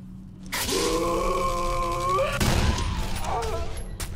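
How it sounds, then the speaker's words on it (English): Gunfire in the video game Condemned: Criminal Origins breaks out as a sudden loud burst of shots after a long, low groaning voice, then continues as rough, crackling bangs near the listener. "Oh shit, guns!"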